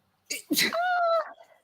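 A single sharp sneeze bursts out in two quick parts, close and loud, followed by a brief trailing vocal sound.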